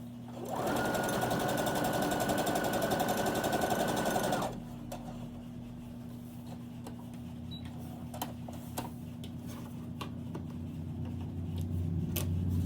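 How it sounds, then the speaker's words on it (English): A sewing machine runs steadily for about four seconds, stitching a quarter-inch seam down the side of a quilt block, then stops, leaving a low hum and a few faint clicks and handling sounds. "we're gonna sew a 1/4 inch down the side"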